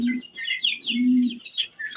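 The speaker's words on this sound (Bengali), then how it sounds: "এখানে আছে মুরগি," Young farm chicken chicks give short, high peeps scattered across the moment, close by and fairly faint, over a low intermittent humming tone, with no talking.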